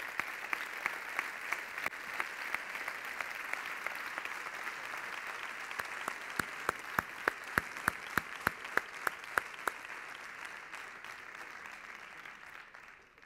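A sustained ovation at a sports awards gala for the athlete Blai Olmos, broad crowd applause with one loud, rhythmic clapper punching through near the middle before the sound fades.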